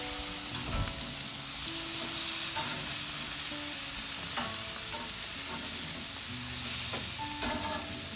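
Pork chops sizzle steadily on a hot Weber grill, a continuous close crackle with a few light clinks of tongs or grate scattered through.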